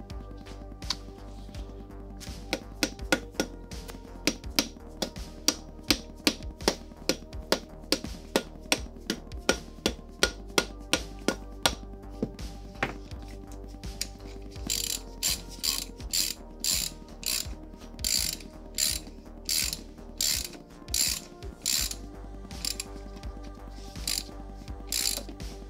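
Ratchet wrench with a socket turning the gearbox bolts on a Nissan 350Z during a clutch and transmission refit, giving long runs of close, loud, rapid clicking, with sharper bursts in the second half and brief pauses between strokes.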